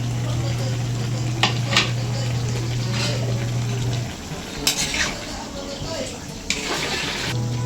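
Chicken menudo with carrots and potatoes cooks in a pot: stirring, a low simmering sizzle and utensils clinking against the metal, heard close while someone talks.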